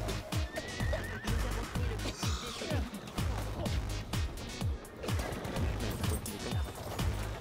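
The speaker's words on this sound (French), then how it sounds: "il y a un cheval qui fait la course avec moi" In the video game Battlefield 1, a horse gallops close by with rhythmic, heavy hoofbeats and lets out loud whinnying neighs over a busy game soundscape with scattered effects.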